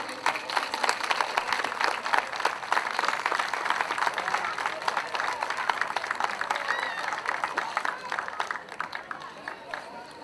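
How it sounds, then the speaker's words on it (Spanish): A crowd at a town fiesta applauds steadily for a woman called to the stage, dense clapping sustained for about ten seconds at a moderate, even level with some voices mixed in. "Un fuerte aplauso, por favor."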